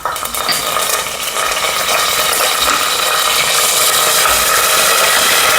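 Curry leaves frying in hot oil with shahjeera while a prawn masala curry is cooked, giving a loud, steady, crackling sizzle that runs unbroken throughout without any talk.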